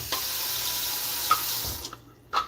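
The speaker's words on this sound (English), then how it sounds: "Put about 10 ounces of water." Steady stream of water running from a tap into a cup, a continuous hiss with a few small clinks, stopping near the end.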